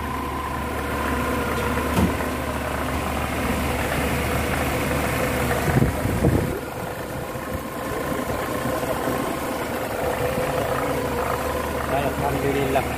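A car engine idling steadily after its rat-chewed wiring was reconnected, a close mid-pitched hum with a faint knock and vibration, one brief louder rev near the middle, and people talking over it.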